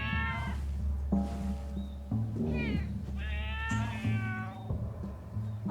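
Lynx cubs in the wilderness game Shelter 2 give repeated high, wavering meows that overlap and come and go over a steady low background hum, close and fairly loud.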